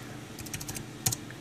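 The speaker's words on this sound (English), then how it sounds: "Typing." Quick clicks of a computer keyboard come in a short burst of several keystrokes, then one louder pair near the end, close and fairly quiet.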